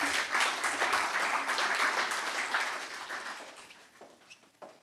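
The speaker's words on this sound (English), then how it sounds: "I think that deserves another round of applause" A conference audience at an energy industry event gives a round of applause that starts fairly full and gradually fades to scattered claps over a few seconds, heard from a distance and at modest volume.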